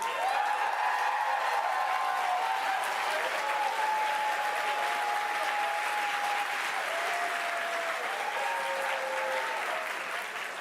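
A large crowd applauds at a Dead by Daylight 10th anniversary event in a sustained dense wash of clapping that tapers slightly at the end, with faint tonal music and a few voices underneath.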